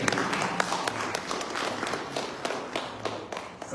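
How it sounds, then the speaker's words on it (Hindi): An audience claps in applause at a Hindi magazine launch event held at the Indian Consulate in New York. The clapping is fairly quiet and dense, with scattered sharper claps, and there is no talking. "मैं उनकी सलाह का सम्मान करते हुए उनके लिए पुनः आपसे तालियां बजाऊंगा"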